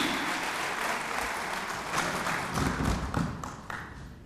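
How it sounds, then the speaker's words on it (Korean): An audience at a forum seminar applauds steadily for several seconds, dense clapping that swells slightly near the end, heard up close in a large room. "여러분, 함성의 박수를 보내주십시오."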